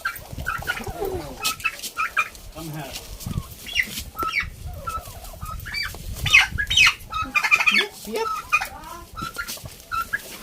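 Turkeys gobble and other poultry cluck and coo in a busy barnyard, with bursts of calls close by and voices talking intermittently.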